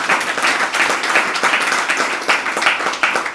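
An audience at a religious sermon claps continuously, a dense, even patter of many hands that rises and falls slightly without stopping, with no voices over it.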